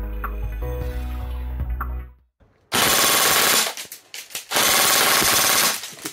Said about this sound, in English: Just shot 19 rounds a second.